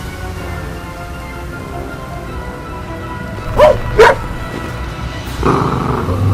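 Street dogs attacking a rat snake give two short, sharp barks close together midway, followed by a rougher burst of barking or growling near the end, over a steady background hiss.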